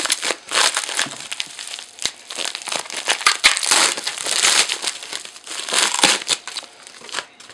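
Plastic packaging around an FA20DIT Subaru BRZ intake manifold bolt-on kit is pulled open, giving loud, close, continuous crinkling and crushing with sharp crackles throughout and no talking.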